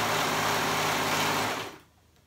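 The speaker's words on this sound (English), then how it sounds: "I'm just using my serger just because that's what I'm comfortable with." A serger overlock machine runs steadily, stitching the seam of a stretch-knit wrap top with a dense whirring hum, then winds down and stops about two-thirds of the way through.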